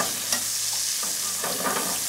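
Pheasant breast fries in clarified butter in a pan with a close, steady sizzle and occasional spatula scrapes and pops, and no voices.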